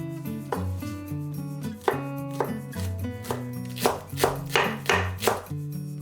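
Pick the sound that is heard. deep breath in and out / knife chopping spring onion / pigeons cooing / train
knife chopping spring onion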